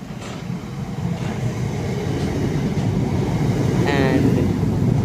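A train pulls slowly into Sole Street station on the South Eastern Main Line, giving a loud, steady rumble with a brief squeal of brakes near the end.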